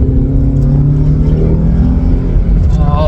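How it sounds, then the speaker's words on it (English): Toyota Altezza with a lightweight flywheel, its engine holding a loud, steady high-rev drone from the cabin while driving, with a dense, constant rumble throughout. "Oh, the engine sounds amazing. That lightweight flywheel gives you so much top end."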